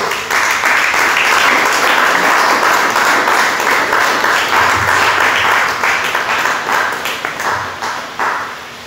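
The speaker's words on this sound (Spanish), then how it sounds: "Den un fuerte aplauso al Rey." A church congregation breaks into loud, sustained applause, a dense wash of many hands clapping that stays strong throughout and thins slightly near the end.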